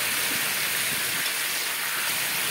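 Boiled chicken frying in hot oil in a wok gives off a loud, continuous broadband hiss that stays steady throughout with no voices.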